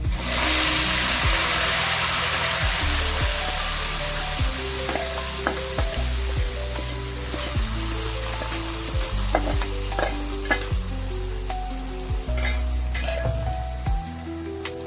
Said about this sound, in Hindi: अभी बघार को ये ग्रेवी में डालेंगे।